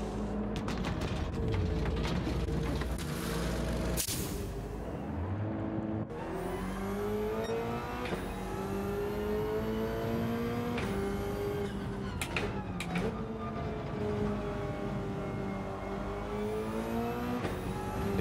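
Race car engine in Gran Turismo 7 on the Deep Forest circuit, droning loudly throughout with rising and falling harmonic sweeps as it shifts and accelerates, with tyre noise mixed in.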